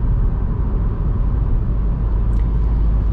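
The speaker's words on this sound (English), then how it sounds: "We're on winter tires, which is sometimes noisier depending on the tarmac" Steady, loud low rumble of winter tires rolling over rough tarmac, heard from inside a 2022 Citroen C3 Aircross with its 1.2 PureTech 110 HP engine, constant and unbroken with no voices.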